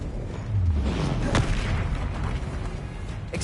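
A Confringo fire-blast spell erupts in Hogwarts Legacy, a deep booming impact with a low sweeping rumble and a sharp crack partway through, followed by lingering rough noise.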